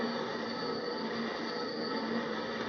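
A permanent magnet blower motor on a waste oil shop heater runs with a steady, close droning whir and a faint tonal hum, constant throughout with no pauses or voices.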